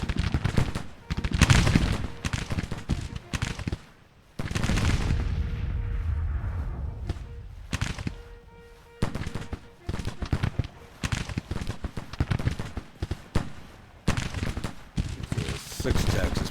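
Infantry rifle volleys and cannon fire in the Ultimate General: Civil War strategy game, a dense battle din of repeated crackling gunfire bursts and booms, loud and continuous with brief lulls, someone talking over it at times.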